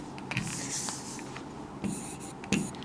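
Marker or chalk scratching across a classroom board as a number series is written, in short strokes with brief pauses, close and fairly clear with no talking.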